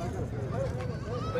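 Goats bleating at the Haripur goat market, where milking does with kids are on sale; short bleats rise over steady crowd chatter and someone talking nearby.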